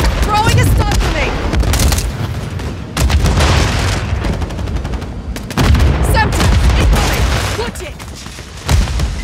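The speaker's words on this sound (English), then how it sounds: "Throwing a stun grenade." A stun grenade goes off amid a Call of Duty: Modern Warfare 3 multiplayer firefight, with sharp booms and rapid bursts of gunfire cracking repeatedly over a loud, chaotic battle mix.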